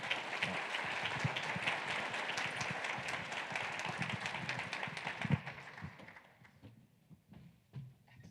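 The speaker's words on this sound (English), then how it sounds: "Again, another round of applause for our final fireside chat of the day." Audience applause after a fireside chat at an agtech summit, steady clapping from a sizable crowd that tapers off and fades to near quiet by the end.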